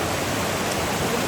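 Forest stream at Vazhachal, its water flowing in a loud, steady broadband rush with no breaks, close by and alone.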